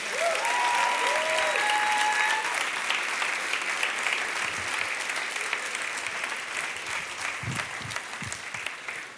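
Sustained applause from a large church congregation, dense and steady throughout, slowly thinning toward the end, with a faint voice briefly in the background.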